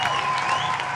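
A brief burst of audience applause for Boris on a comedy show, dense clapping mixed with a light crowd murmur, loud and close.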